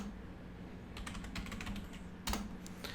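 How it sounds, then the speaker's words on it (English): Keys clack on a computer keyboard as a password is typed, scattered quiet taps with brief pauses and a sharper burst near the end, close and faint with no talking. "So let me just type in here some simple username, which is PNP. New password is."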